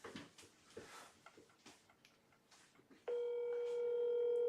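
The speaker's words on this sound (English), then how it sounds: "It's ringing." An outgoing phone call rings out as a steady electronic ringback tone that begins abruptly partway through and holds continuously, preceded by quieter, uneven background sounds.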